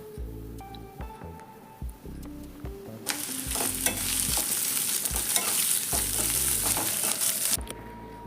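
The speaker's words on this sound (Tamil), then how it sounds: "இப்போ நம்ம ஆனியனை போட்டுக்கலாம்." Onions go into hot oil for a mutton liver gravy, starting with soft stirring and scraping, then a sudden loud, steady sizzle as they hit the oil, with occasional spoon clinks.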